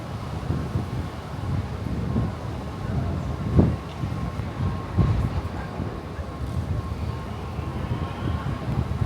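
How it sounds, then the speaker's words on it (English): Strong wind buffets the microphone outdoors with constant low rumbling and gusty surges, with faint voices underneath. "It's really windy out here today."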